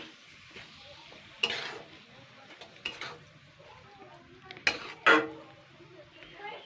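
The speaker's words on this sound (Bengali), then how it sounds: "এটা দিয়ে আমি নাড়াচাড়া করে নেব" Fish roe stirred with spices in a pan, a quiet clatter of spoon scraping metal with a few sharper knocks near the middle and end, over a faint low sizzle; no talking.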